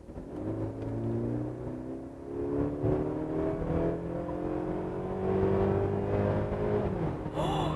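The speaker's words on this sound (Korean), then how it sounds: "자, 그럼 속도를 조금 줄였다가 저속에서 고속으로 풀악셀!" A Mercedes GLC Coupe AMG Line in sport mode pulls hard at full throttle from low speed, its engine note a steady, rising drone with a smooth gearshift dip near the end, heard from inside the cabin with no talking.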